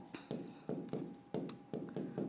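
Chalk or marker strokes on a classroom board during a Hindi grammar lesson, a run of short scratchy taps and drags in quick irregular rhythm, close and clear with no talk over it.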